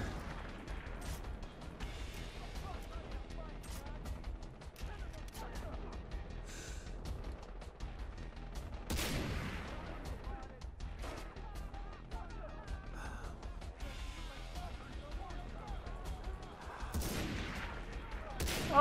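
Gunfire in the jungle shooter game Far Cry 3 comes as fairly faint scattered shots and a couple of sharper bursts against low background game noise, with a voice talking now and then.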